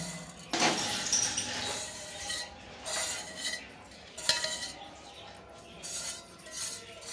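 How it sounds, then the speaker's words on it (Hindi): A spoon stirs and scrapes a beef korma mixture of meat and hand-cut onion in a pot, giving several separate scraping clinks with short pauses between them, close and at a moderate level, with no voices. "और इसको अब हम फेंट लेंगे चमची से।"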